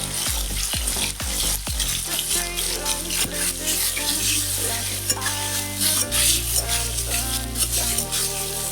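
Bitter gourd with a little turmeric sizzles and crackles steadily in hot oil in a pan, a close, continuous frying hiss with occasional stirring clatter and some background clanks.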